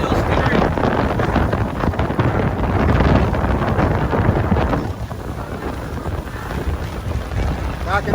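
Strong 23-knot wind roars steadily across the microphone aboard a sailboat under manual steering at sea off Cooperstown, Abacos, Bahamas, with rushing water beneath; the broadband buffeting stays loud throughout and eases slightly near the end.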